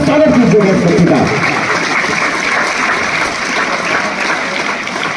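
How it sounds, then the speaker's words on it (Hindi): An audience gives loud, sustained applause to honour a school topper. A voice speaks over the opening second, then the dense clapping continues alone. "जोरदार तालियों से अभिनंदन स्वागत कीजिए"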